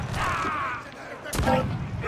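Swivel gun firing aboard a ship in the video game Assassin's Creed Black Flag: a sharp blast near the middle of the clip, set against game ambience and continuous sound effects, with a voice talking at the start.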